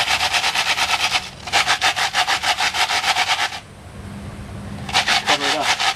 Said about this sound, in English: You can take a shingle, rub it back and forth,